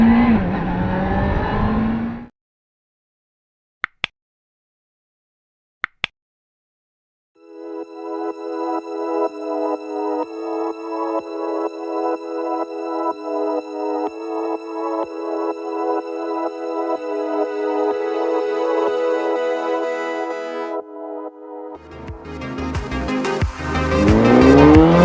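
A 1997 Suzuki GSX-R 600 motorcycle is ridden hard, its engine rising through a long, steadily climbing rev sweep with rhythmic pulses and gear changes, loud and close, framed by brief bursts of wind and road rush at the start and end.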